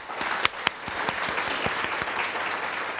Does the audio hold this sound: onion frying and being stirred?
no